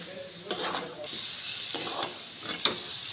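Banana flower (mocha) stirred in a frying pan, a steady soft sizzle running throughout with a few sharper scrapes and clinks of the spatula against the pan, close and moderately quiet.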